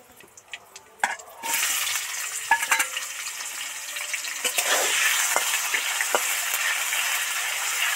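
Bitter gourd pieces dropped into hot oil burst into a loud, continuous sizzle that swells and holds steady, with a few clinks and splashes as they go in.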